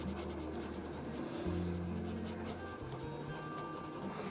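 Colored pencil lightly shading on paper with almost no pressure during an adult coloring page of snowdrops, a soft continuous scratchy rasp close by, steady strokes with a faint low hum underneath and no talk.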